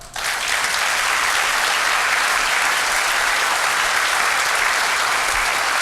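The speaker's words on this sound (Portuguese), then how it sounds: "Dá um aplauso agora." A church congregation bursts into loud, sustained applause that holds steady and dense throughout, with no voices rising above the clapping.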